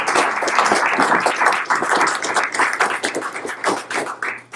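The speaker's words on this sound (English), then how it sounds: "Can we give them all such a big round of applause?" Audience at the 2017 Himalayan Film Festival in the Bay Area applauding the organizers, board, staff and volunteers: dense, steady clapping from many hands, loud and close, sustained for several seconds before tapering off.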